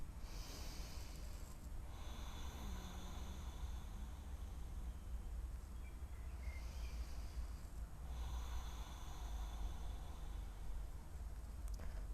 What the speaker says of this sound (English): You can hear yourself breathing, you can hear it in your throat.